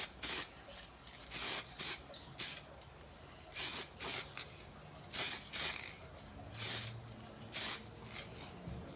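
Short bursts from an aerosol can spray clear coat onto a hydro-dipped camo gun stock outdoors, about a dozen close hissing blasts in an uneven rhythm with quiet gaps and no talking.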